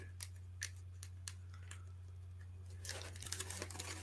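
Tape on a book package is cut carefully with scissors: several sharp, faint snips spaced apart over a low steady hum, then a brief stretch of crinkling and tearing packaging near the end.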